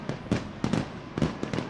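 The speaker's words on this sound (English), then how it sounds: "fireworks continuing to go off here in Salem Stadium" Fireworks burst over Salem Stadium during the celebration after the Stagg Bowl, the NCAA Division III football championship: several sharp, crackling booms in irregular succession, moderately distant, with no talking.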